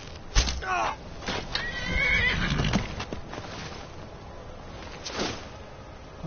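A horse whinnies in the open-world fantasy game Skyrim, two loud neighs a few seconds apart with hoof clip-clop under them, mixed with someone talking and game sounds.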